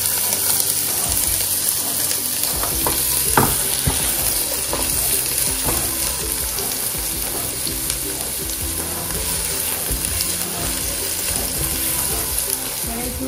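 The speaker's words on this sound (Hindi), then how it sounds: "सबसे पहले हम पैन में 2 टेबलस्पून ऑयल डालेंगे। इसमें 1 मीडियम चॉप्ड अनियन डाल देते हैं।" Chopped onion fries in two tablespoons of oil in a pan, giving a steady, even sizzle throughout, with faint stirring and scraping clicks.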